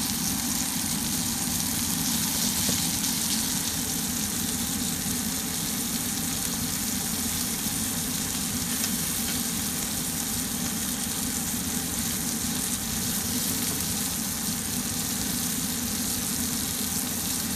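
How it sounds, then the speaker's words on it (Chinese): Prawns pan-fry over low heat in a non-stick pan with a little oil for salt and pepper shrimp, giving a steady, even sizzle throughout with no talking. "把处理好的虾放入平底锅中，小火慢煎至一面发黄，就可以翻转煎另一面。"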